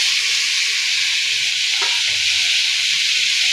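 Mustard-poppy paste, tomato and green chili fry in a pan, giving a loud, steady, even sizzle throughout with one brief faint clink partway through, and no talking.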